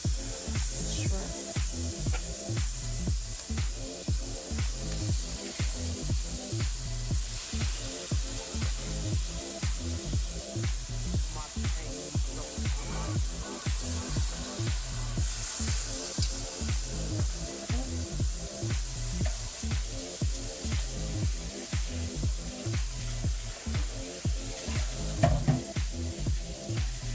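Shrimp cooking on medium heat in a single pot for a chicken, shrimp and mushroom alfredo pasta, giving a steady, loud sizzle with dense crackling and repeated rhythmic clatter throughout, no voices.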